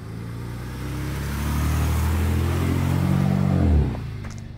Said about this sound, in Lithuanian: Na, o dabar išvažiavom į kelią